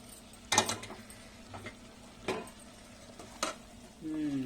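Drumstick leaves stir-frying in a pan, a faint low sizzle under a few distinct scraping and clinking stirring strokes, followed by a brief voice at the end.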